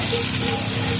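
Chili and carrots hit hot oil in a frying pan over high heat, giving a steady, close hissing sizzle throughout the short moment.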